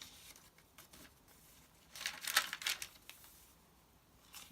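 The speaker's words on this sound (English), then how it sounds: "And more crunchy paper." Dry paper crinkles and crunches in a short flurry of crisp rustling, fairly quiet and close, with softer handling noises before and after.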